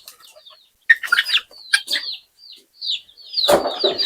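Native village hen, a broody mother hen weighing over three kilograms, clucking in a run of short, close calls, broken by brief pauses and a louder burst near the end, with some wing rustling.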